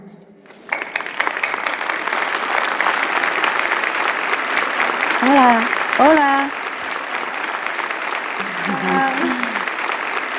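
An audience claps steadily in a warm round of applause welcoming a guest of honor, the clapping continuing throughout while voices exchange greetings over it.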